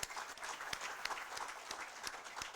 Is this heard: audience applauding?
yes